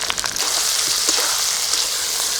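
Tomatoes hit a hot pan of onion and ginger-garlic paste for a chicken biryani masala, raising a loud, dense, continuous sizzle that fills the whole moment with no voices.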